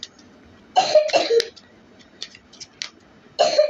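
A person coughs, with a fan running in the room: a double cough, a brief pause with a few faint breaths, then another harsh cough, close and loud over a low steady hum.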